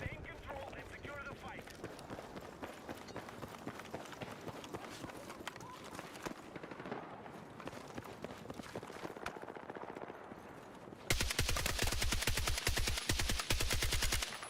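SOR 300 carbine firing in a first-person shooter video game, rapid repeated shots in bursts, growing louder and denser near the end, mixed with footsteps and game effects.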